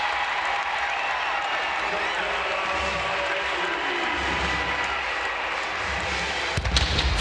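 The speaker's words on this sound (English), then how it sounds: "Fireworks in Denton." Fireworks go off over a college football stadium in Denton during a North Texas home game against UTSA in a football video game, bursts blending into a dense roaring crowd with a sharper crack near the end.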